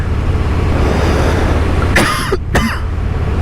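Two short, sharp coughs close together inside a helmet, heard over a steady rushing road and wind noise.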